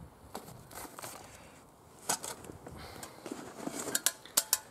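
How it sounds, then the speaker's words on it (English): Metal camping gear — an insulated cup and a Trangia stove set with its triangle stand — handled up close, with scattered clinks, scrapes and rattles that sharpen into a few bright metallic knocks toward the end. "So there's a cup, insulated cup, my Trangia stove, and Trangia triangle in there."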